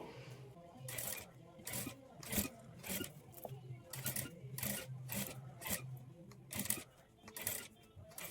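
Sewing machine stitching piping onto a blouse neckline, worked slowly: a steady low motor hum under a run of rhythmic rasping bursts, close and moderately loud.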